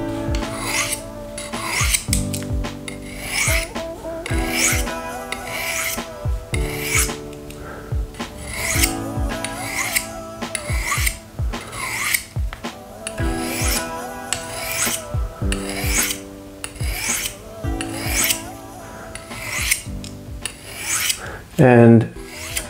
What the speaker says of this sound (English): To sharpen it you have to hold it at an edge of 20 degrees and yeah, do even strokes.